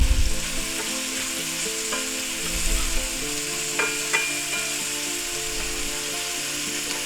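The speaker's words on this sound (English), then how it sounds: "Stir them in a little." Green poblano peppers frying in a pan while being stirred in, an even steady sizzle with a few scrapes and low knocks of the utensil, close by, no one speaking.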